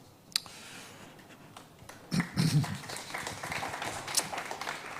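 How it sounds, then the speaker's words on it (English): Sparse, lukewarm clapping from an audience at a conversation event on Jewish community life, a few scattered claps at first, then a thin, faint patter that lingers quietly to the end. "Tepid applause."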